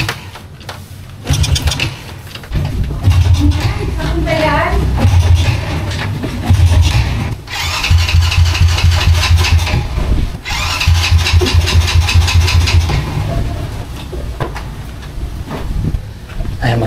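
A 15+ year old Honda Wave 100R motorcycle is cranked repeatedly at close range, its engine turning over in rhythmic, loud bursts separated by brief pauses, with faint talk in the background.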